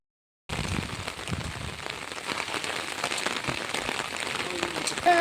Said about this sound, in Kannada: ಮಲೆನಾಡಲ್ಲಿ ಮಳೆಯ ಆರ್ಭಟ ಜೋರಾಗಿದೆ